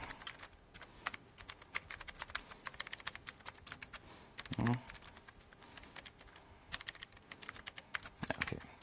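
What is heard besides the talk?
typing on a computer keyboard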